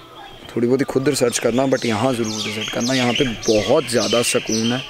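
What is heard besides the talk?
birds chirping at a temple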